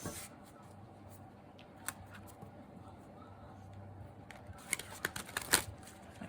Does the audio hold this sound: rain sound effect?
no